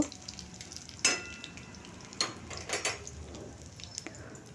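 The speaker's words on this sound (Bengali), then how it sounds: "রসুনটা দিয়ে আমি একটু বাদামি করে ভেজে নেব" Garlic browning in hot oil gives a faint, steady sizzle, broken by a few sharp clinks of a utensil against the pan.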